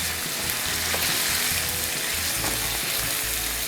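Washed rice is tipped into onions frying in a pan for green tomato pilaki, producing a steady, close, hissing sizzle that continues without a break and without talking.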